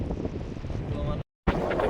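Strong wind buffets a fishing boat at sea, a loud, steady roar of gusts against the microphone that cuts out briefly and then returns just as forcefully.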